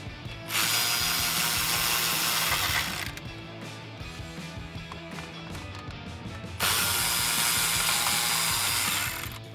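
A ratchet tool backs out 7 mm screws from interior trim on a Ford F150 pickup, two long buzzing runs of rapid ratcheting with quieter handling noise between, close up with no voices.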